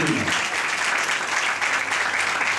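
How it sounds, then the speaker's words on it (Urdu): A church congregation applauds loudly during a Sunday service, a dense, steady burst of many hands clapping that holds at an even level throughout. "آئیے زوردار تالیوں سے ہاللویا"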